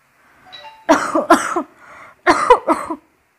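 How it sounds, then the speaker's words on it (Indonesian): A woman coughs in two separate bursts of two or three harsh, close coughs each, with a faint soft tone before the first burst. "Kamu masih batuk?"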